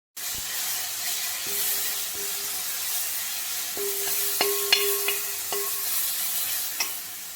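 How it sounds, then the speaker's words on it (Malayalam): Ground coconut paste fries in hot oil for a jackfruit puzhukku, a constant close sizzle and hiss. Light stirring clicks and scrapes come through in the second half, and a few faint tonal notes sit underneath. "നമ്മൾ അരച്ച് വെച്ച അരപ്പും കൂടി ഇതിനകത്തേക്കിട്ട് എണ്ണയ്ക്കകത്ത് കിടന്ന് അരപ്പും കൂടി സ്വല്പം മൂപ്പിച്ചെടുക്കണം."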